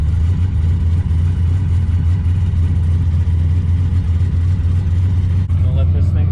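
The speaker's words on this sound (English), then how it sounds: "cold starting the carburetor" Carbureted car engine just cold-started after sitting about a week, idling loud and close with a steady low rumble as it warms up, and a voice talks briefly over it near the end.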